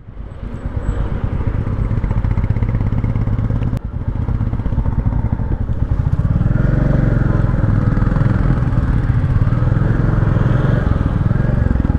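A Royal Enfield motorcycle engine on a ride in Meghalaya, India, runs loud and close with a steady thumping rumble that swells and holds stronger from about the midpoint, with a brief sharp clack early on.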